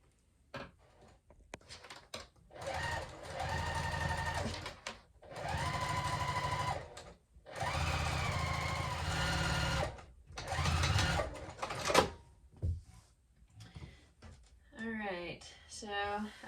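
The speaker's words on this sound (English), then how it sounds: "But otherwise, I'm just going to go ahead and sew." A sewing machine stitching a dog water bowl mat, running in several sustained whirring bursts with brief stops between them, close and fairly loud, followed by a few small handling noises.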